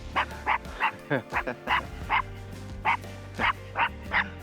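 A puppy gives a series of short, sharp yips and barks at an irregular pace, close by, with a low steady hum running beneath and some quiet talk mixed in.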